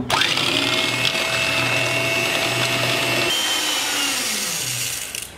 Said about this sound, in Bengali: এবার একটি ইলেকট্রিক বিটার নিয়েছি, বিটারের সাহায্যে সাদা অংশটাকে আমি 5 মিনিট বিট করে নেব।